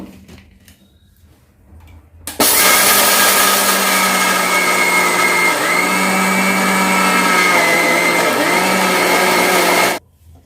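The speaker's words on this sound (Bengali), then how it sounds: "তো এটা এখন ভালো করে মিক্সিতে গ্রাইন্ড করে নেব।" A kitchen mixer grinder grinds jaggery powder with cardamom, starting abruptly after a quiet moment and running as a loud, steady whirring drone for about seven and a half seconds before cutting off sharply.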